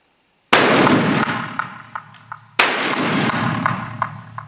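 Two loud, sharp rifle gunshots at a homemade iron target about two seconds apart, each followed by a long ringing echo and a few fainter clinks in the decay.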